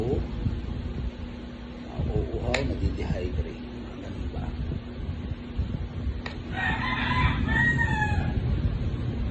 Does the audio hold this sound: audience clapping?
no